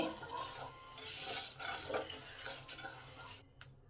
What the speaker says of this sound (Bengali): আর এই যে পটপট করে আওয়াজ হচ্ছে, এটাই হলো ভাজার লক্ষণ